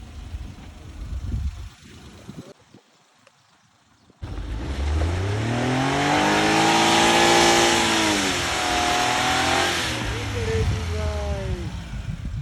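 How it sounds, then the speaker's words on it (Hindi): A car engine revs hard while its wheels slip trying to climb a slope at Yousmarg, the pitch swelling and sagging in loud, close surges after a brief quiet gap. "गाड़ी स्लिप हो रही है गाइस, गाड़ी नहीं चढ़ पाती है।"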